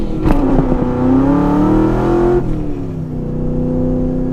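A loud 600-horsepower V8 engine in a Chevrolet Camaro SS SLP ZL600 revs up in a rising, throaty roar, then drops off and settles into a lower rumble.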